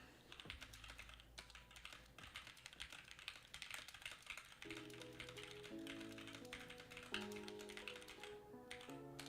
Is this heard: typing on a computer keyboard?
yes